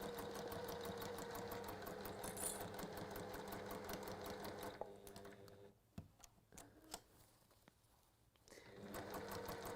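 A sewing machine stitches pleather with a quarter-inch guide foot, running in a fast steady whir, pausing briefly into scattered clicks, then starting up again, close and unaccompanied by talk.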